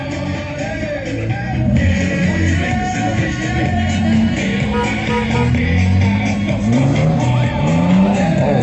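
A monster truck's engine roars and revs at a monster truck show in Weil am Rhein. Pitch sweeps up and down loudly and continuously over a dense wash of arena noise.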